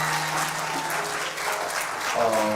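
Church audience applauding at a Bible study, a dense steady burst of clapping that fills the room for a few seconds, loud and continuous with a faint tonal hum underneath.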